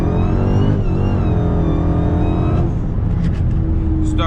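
An 800hp Hellcat engine roars at full throttle with rising pitch as it accelerates, loud and close from inside the car, then eases off.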